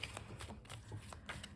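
Playing cards shuffled over and over, a soft papery riffling that repeats in short bursts roughly every third of a second, close and fairly quiet with no talking.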